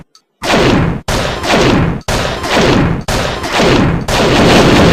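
Heavy, loud gunfire from a video game repeats in five roughly one-second blasts, each cut off abruptly before the next, with no talk over it.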